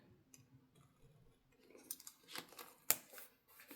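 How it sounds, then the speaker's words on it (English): Small scissors snip washi tape, producing a few quiet crisp clicks and one sharp cut near the end, close and faint. "I'm going to cut it a little bit shorter"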